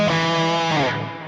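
An electric guitar played through a Flamma E1000 with the cab sim switched on sounds a thick, distorted sustained chord with a chorus-like shimmer, loud and close, shifting slightly before it starts to fade.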